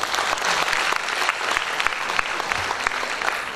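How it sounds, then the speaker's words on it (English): Loud, dense applause from a seated audience at a gathering, many hands clapping together in a continuous roar that holds steady for a few seconds without talk. "So one big round of applause for her."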